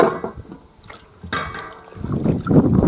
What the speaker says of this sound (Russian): Все морковки я так потом и мою.